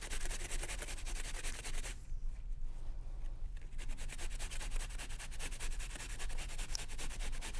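Half a cucumber rubbed quickly against a shredder for stuffed grape leaves makes a dense, fast scraping rasp, faint and close, pausing briefly in the middle before resuming steadily.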